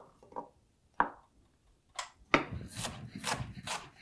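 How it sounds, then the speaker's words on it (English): A knife cuts a pineapple into pieces on a board, giving a few separate sharp chops followed by a quicker run of rasping strokes, close and fairly quiet. "we're ready to go right down the line, cutting it up into appropriately sized pieces"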